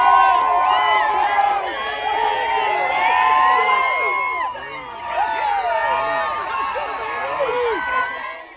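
A college football stadium crowd of Tiger fans roaring, with dense cheering, whoops and high shouts swelling and dipping in waves, loud and reverberant across the whole stretch.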